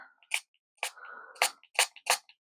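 Five short hissing bursts of water from a spray bottle, spaced irregularly, close and crisp with quiet gaps between them.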